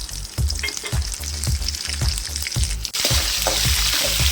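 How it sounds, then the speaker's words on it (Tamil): Lentils, dried red chilies, tamarind and rock salt sauté in oil with a loud, close sizzle, while a spatula scrapes the pan in a steady rhythm roughly twice a second, then the frying hiss swells brighter near the end. "நல்லா வதக்கி விட்டுக்கோங்க"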